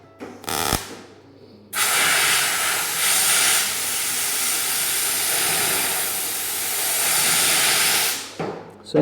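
A compressed air hose blasts during car bodywork in a workshop: one loud, continuous hiss of about six seconds, with short softer puffs just before and after it.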